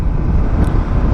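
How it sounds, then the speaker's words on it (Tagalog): Strong wind buffets the microphone during a solo motorcycle ride, a steady, loud low rumble that fills the whole short stretch with no other sound standing out. "Lakas ng hangin."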